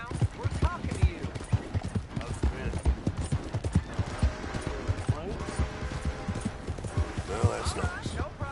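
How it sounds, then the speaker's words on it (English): Horse hooves in the Western game Red Dead Redemption 2 clip-clop in a steady, close rhythm while people talk over them throughout. "that's a nice looking horse you have there"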